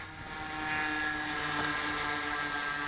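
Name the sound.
Air Hogs RC Batwing toy plane motor while taxiing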